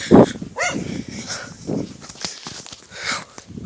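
A dog barks once loudly and close at the start, followed by softer scattered sounds and movement, with the noise of a casual summer outing around it.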